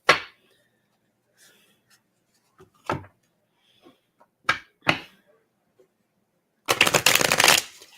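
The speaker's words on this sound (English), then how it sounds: "I'm going to get a different deck because those are almost the same cards I just dealt" Playing cards from a deck of money cards shuffled in one loud riffling burst near the end, after a few scattered taps and card handling sounds in otherwise quiet surroundings.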